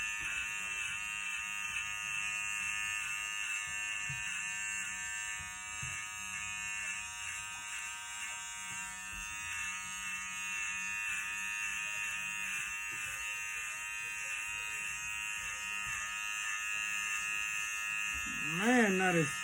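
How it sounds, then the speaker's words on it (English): A freshly charged electric shaver buzzes steadily through thick hair, a continuous close-up whine with slight shifts in pitch as it cuts, while people talk quietly over it. "Look how I'm so glad I charged my shaver."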